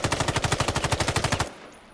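A rapid automatic gunfire burst from the Islands of Nyne shooter game: about eighteen evenly spaced, loud shots in quick rhythm, then the burst cuts off abruptly into a short fading tail.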